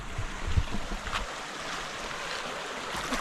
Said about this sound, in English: Oh, it's another creek.